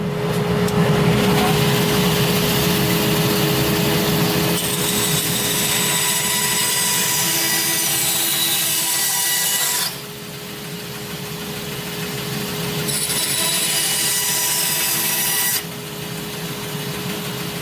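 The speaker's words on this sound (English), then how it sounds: "I'm going to go ahead and use my bandsaw here to remove the extra material" A bandsaw whines steadily while its blade cuts extra wood from box-joint splines, the cutting noise pausing briefly twice as the motor keeps running, loud and close.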